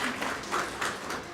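A brief burst of applause from an audience at a National Adoption Day event, a soft, steady patter of clapping hands with no voices.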